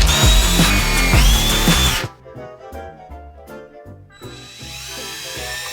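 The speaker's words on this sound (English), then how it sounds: "Stop messing about and get drilling." A power drill whines loudly and steadily during DIY work aboard a narrowboat, then drops away and returns in shorter bursts with gaps between.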